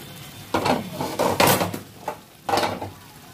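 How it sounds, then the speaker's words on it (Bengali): Chicken sautéing in a spiced masala for dhaniya chicken, with a spoon scraping and knocking against the pan in several distinct bursts over a low background sizzle; close and fairly loud. "যতক্ষণে মশলাটা থেকে তেল ছাড়ছে ততক্ষণে আমি চিকেনটাকে কষাবো"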